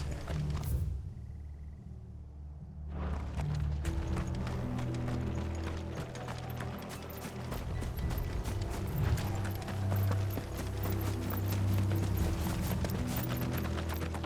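Steady clip-clopping of horse hooves in the video game Final Fantasy XVI, over a continuous mechanical rumble, loud and busy throughout after a brief quiet opening.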